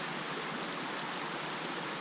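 Red Creek near Red Falls in Dolly Sods rushes steadily as a dense, continuous broadband wash of flowing water heard from the bank, even and unbroken throughout with no voices.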